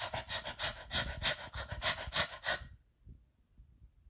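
A tired dog pants heavily in rapid, rhythmic breaths, close and fairly loud, then falls quiet.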